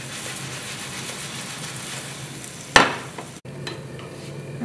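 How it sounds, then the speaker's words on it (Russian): Steady sizzling of pea-flour pancake batter frying in a pan, with a brief louder crackle near the middle and a short clatter just after. "Обжарил с обоих сторон."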